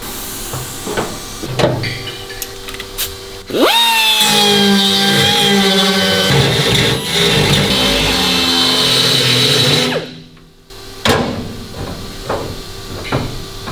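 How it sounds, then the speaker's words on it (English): Dremel rotary tool enlarging a hole during a 1941 Kubelwagen restoration, a loud high-pitched grinding whine that winds up sharply and runs several seconds before cutting off, with clatter and handling noise around it. "we've just got to Dremel that hole out now and make him big enough. It's very noisy, very horrible."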